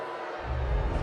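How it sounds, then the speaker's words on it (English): A vocal home crowd at a WNBL basketball game between Townsville Fire and Geelong United roars in displeasure at a referee call, a dense, swelling wall of noise that builds over a second. "And the vocal home crowd are not happy"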